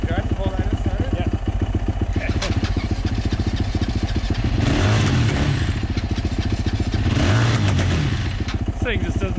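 A motocross bike engine fitted to an ATV sputters and struggles to keep running, chugging unevenly with rising and falling revs as the throttle is worked, close up, with people talking over it.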